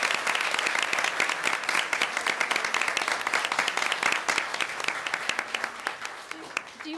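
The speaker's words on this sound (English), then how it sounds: "please join me in giving these talented singers a round of applause" An audience at a school award ceremony applauds singers, sharp, dense claps continuing for several seconds before thinning out at the end.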